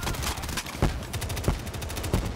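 Hip-fire gunshots in Black Ops 3 Zombies Gun Game, a rapid run of sharp cracks with a few heavier reports standing out, loud and close over a busy game backdrop.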